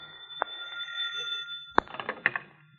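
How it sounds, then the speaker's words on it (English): A telephone rings in an old-time radio detective drama, a faint metallic bell tone sustained in the background, followed by a few sharp knocks and clatters like a handset being picked up. "answer the phone, someone"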